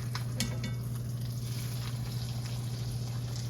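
An egg frying over medium in a pan on a stovetop burner gives a faint, steady sizzle beneath a constant low hum.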